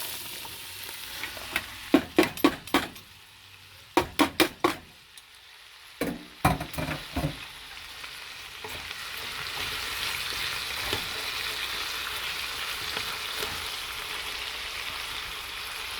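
Chopped beef sizzles and fries in a hot pan with a steady hiss, broken early by clusters of sharp scraping stirs, then settling into a continuous crackling fry.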